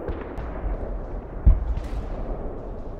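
Old tank guns fire in a battle in the video game Arms Trade Tycoon Tanks. One heavy thump stands out over a steady low din of combat, and no one speaks.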